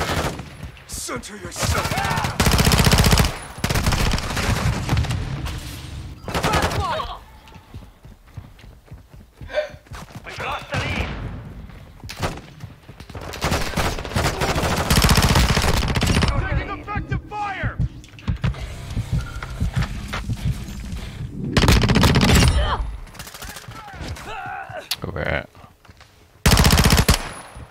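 Call of Duty gunfire, repeated loud bursts of automatic weapon fire separated by quieter gaps, mixed with game noise and occasional voice lines.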